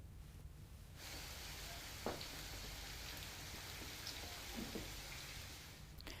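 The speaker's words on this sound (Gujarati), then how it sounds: "ધીમે ધારે વરસાદ વરસી રહ્યો છે" Rain falls steadily in Jetpur, Gujarat, as a soft, even patter across surfaces, with a few sharper drips and a faint rhythm of steady falling water throughout.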